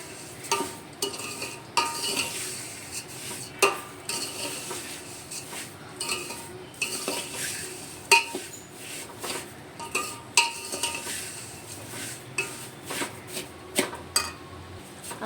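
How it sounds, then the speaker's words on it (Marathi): Vermicelli kheer with dry fruits being stirred in a pan: repeated metallic scrapes and clinks of a spoon against the vessel, several strokes every couple of seconds, close and fairly quiet over a soft background hiss. "छान हलवून घेऊया."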